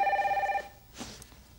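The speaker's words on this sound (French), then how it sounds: "Ah, ah, pas le téléphone." A telephone rings in a bright electronic tone for about half a second, then cuts off, leaving quiet room noise with a faint soft sound afterward.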